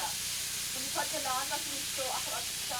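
Onions, beef and bratwurst sizzle on a large outdoor grill, a continuous, close hiss running underneath people chatting nearby.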